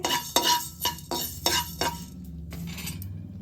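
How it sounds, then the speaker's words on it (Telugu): Coriander seeds dry-roast in a kadai on the stove, with a handful of sharp spoon scrapes and clinks against the pan at an uneven pace, close and fairly loud, fading at the end. "స్టవ్ పై కడాయి పెట్టుకుని ఒక స్పూన్ ధనియాలు వేపుకోవాలి"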